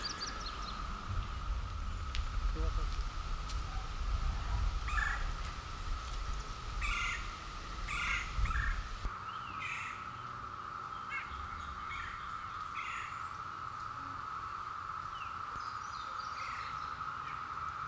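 Birds call from the trees around a black rat snake living above a campsite, with several short, harsh caw-like calls in clusters, moderately distant over a steady background hum.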